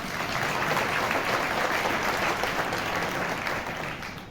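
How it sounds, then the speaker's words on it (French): An audience at a New Year's greetings ceremony claps in a dense, sustained round of applause that stays loud and even, then fades slightly toward the end. "Je pense qu'on peut les applaudir."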